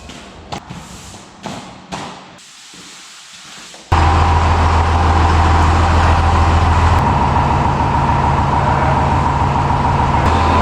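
A loader's engine runs inside a shed, a loud steady diesel drone with a low hum that starts abruptly after a few seconds of quieter knocks and thumps, and no talk.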